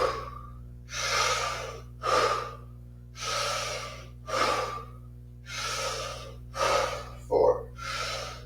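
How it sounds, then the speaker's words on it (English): Deep rapid Wim Hof breathwork breathing during a yin yoga session, a regular series of about eight loud, close inhales and exhales, each a rushing breathy burst with brief pauses between and a faint steady hum beneath. "Let's pump out 20 deep breaths."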